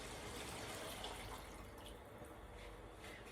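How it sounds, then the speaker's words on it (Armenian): Broth is poured into a pot of red borscht, a faint, steady watery rush with no voices. "Հիմա ավելացնում ենք բուլյոնը։"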